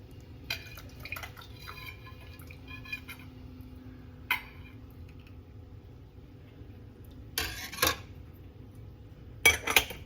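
Homemade tomato okra soup is ladled into hot sterilized jars in a farm stand kitchen, giving faint liquid pours and a few sharp clinks of metal on glass against a quiet background, with no talking.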